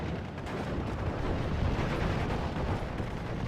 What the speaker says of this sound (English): There's a Sherman currently firing upon them.